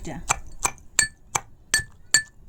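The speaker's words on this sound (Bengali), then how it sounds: "এটা ঠান্ডা হয়ে গেছে, একটা গটির মধ্যে লইয়া এটা কুটি লিমু, ওরকম করে কুটি লিমু।" A cooled spice mix is pounded into paste by hand, with eight sharp, evenly spaced clinking strikes about a third of a second apart, close and distinct over quiet background.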